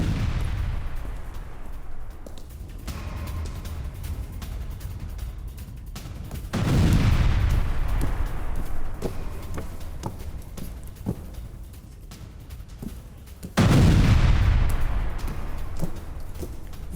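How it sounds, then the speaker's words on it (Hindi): A Russian tank in Donetsk, hit by a Ukrainian drone strike, erupts as the shells inside detonate: two heavy booming blasts several seconds apart, with sharp cracking pops and rumbling between them. "ड्रोन हमले से टैंक में भयंकर विस्फोट को लेकर खबर सामने आई है"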